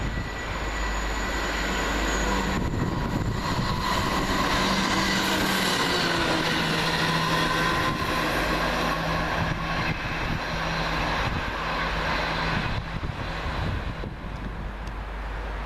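London Midland Class 175 unit 175003 on a Birmingham New Street to Shrewsbury service passes at Coseley, a loud, sustained diesel rumble and rail roar that holds steady throughout and eases slightly at the end.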